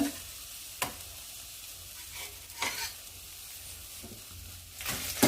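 Cumin seeds, black pepper and curry leaves sizzle in a hot pan for bitter gourd tamarind curry, with several sharp scraping stirs breaking through a steady close crackle.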